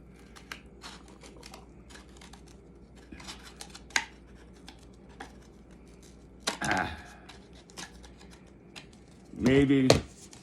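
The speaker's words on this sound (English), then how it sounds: "I'm going to swap to my scissors because the knife wasn't doing it" Scissors trim the top rim of a 20oz paper coffee cup in quiet, scattered snips, with a few louder crinkling bursts of paper near the end.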